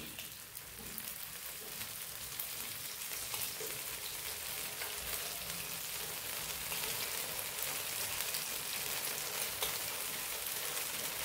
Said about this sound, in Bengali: এই যে হোলগুলো রয়েছে, এই হোলের মধ্যে তেলগুলো দিলে তোমার ফ্রাইটা ভালো হবে।